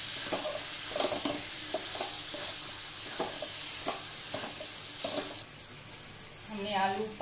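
Potatoes and pointed gourd frying in spice masala, a soft steady sizzle broken by repeated spoon stirs and scrapes against the pan, with a brief watery clatter near the end; no voices.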